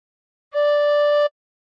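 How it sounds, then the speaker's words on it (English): One held tin whistle note with holes 1 to 5 covered and slightly overblown, a bright steady tone of under a second, heard alone with silence around it. "Put fingers 1 to 5 on Hos 1 to 5 and blow a bit harder once."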